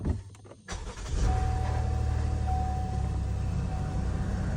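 A car engine cranks and catches, then settles into a steady low idle with a faint whine, close by and unaccompanied by voices.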